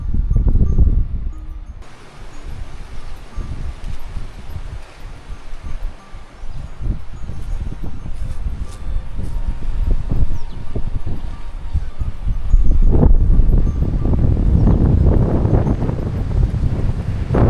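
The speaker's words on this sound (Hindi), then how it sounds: "ये जो जगह है ना, यहाँ हर वक्त हवा ऐसे ही तेज़ चलती रहती है।" Strong wind buffeting the microphone at Saif-ul-Malook lake in Pakistan, a steady loud rush that swells harder near the end, with no talking.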